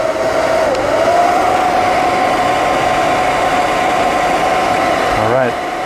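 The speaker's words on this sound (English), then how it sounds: "Let's crank up the forge and go back inside." A blacksmith's forge, just cranked up for making tongs, runs with a loud, steady blowing drone and a constant hum that continues unbroken, easing slightly at the end.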